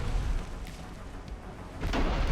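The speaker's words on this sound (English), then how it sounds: "Full broadside into the Chikuma now." Warship guns boom in Ultimate Admiral: Dreadnoughts, heavy low rumbling blasts that roll and overlap with a stronger burst near the end, firing a broadside at the cruiser Chikuma.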